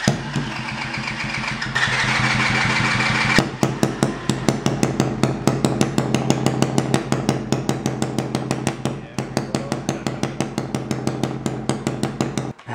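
A straight-piped Chinese quad engine fitted with a homemade snorkel revs briefly, then settles into a loud, close, rapid pulsing idle with a harsh hammering rhythm, running steadily throughout.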